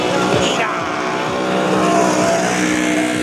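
A 1968 Evinrude Skeeter antique snowmobile runs close by in a parade, its engine a loud, steady buzzing whine with shifting pitch that holds throughout.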